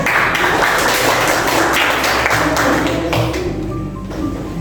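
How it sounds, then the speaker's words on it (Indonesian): Students in a classroom applaud a classmate's answer, a busy burst of many hands clapping close by that stays full for several seconds before tapering slightly, with a faint tone near the end. "Tepuk tangan."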